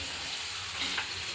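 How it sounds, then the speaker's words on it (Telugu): Mustard seeds frying in hot oil with chopped potato, tomato and ginger in a home kitchen, giving a steady, even sizzle with faint crackles, close and continuous. "బంగాళదుంప, టమాటా, అల్లం అన్నీ కోసి ఫ్రై చేసేస్తున్నాను"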